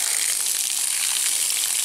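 Water pours steadily into a container, a continuous bright rushing hiss that holds at an even level from start to finish, with no talking.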